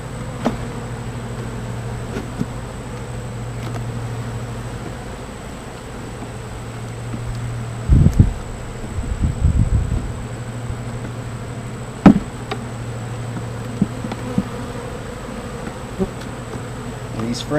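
Honeybees in an open hive being calmed with smoke hum in a steady, continuous drone, close and constant, with a few brief knocks and thumps from handling frames partway through.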